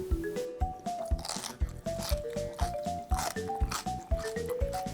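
Close, crisp crunching as someone bites and chews Japanese-style cucumber salad dressed with ground sesame, steady rhythmic chomps repeating loudly throughout with no talking.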